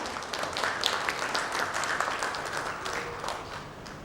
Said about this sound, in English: Can we have a warm round of applause for Mr.